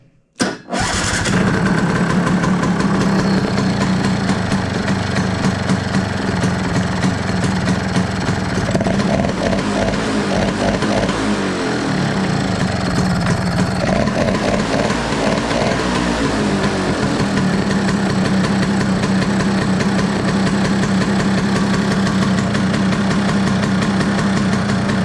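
A Stella scooter engine cranks and catches, then settles into a steady, loud idle close by, running on the fuel reserve with the carburetor choke pulled and the fan cover off.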